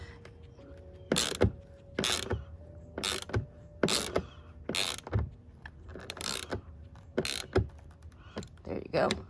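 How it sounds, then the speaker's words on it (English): A socket wrench fitted with a size 30 bit ratchets a screw into a snap-in fender on a 2021 Sea-Doo RXP-X 300, giving about a dozen loud, evenly spaced clicking bursts close by with a low hum underneath. "you can use a socket wrench with the 30 to screw that in nice and tight"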